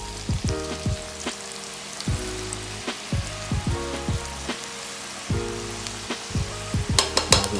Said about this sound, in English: We already dumped the fries in there one time. It's time to do it again for a double fry for the extra crispiness.